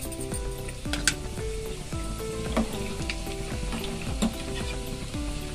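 Mustard and cumin seeds sizzle and pop in hot oil in a pan, a dense crackling hiss with repeated sharp spitting bursts, close and continuous with no voices.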